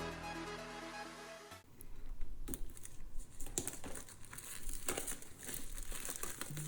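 Plastic wrap is ripped off a DJI Mavic Mini drone box, making soft, close crinkling and tearing that runs steadily for several seconds after a brief lead-in, fairly faint overall.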